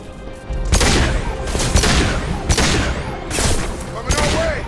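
A grenade blast and bursts of gunfire in the video game Mass Effect 2: several loud, sharp explosive cracks and rattling shots land in quick succession, close and forceful.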